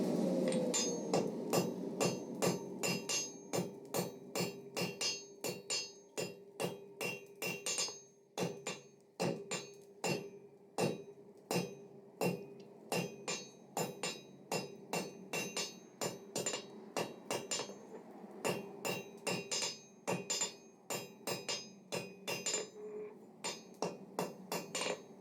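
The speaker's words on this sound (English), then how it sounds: "The sides are welded, time to bring it up to a nice high temperature and forge the face out." A hammer forging hot welded steel into the face of a letter opener, a long run of sharp ringing blows at a steady, uneven pace with brief pauses, close and clear, with no talking.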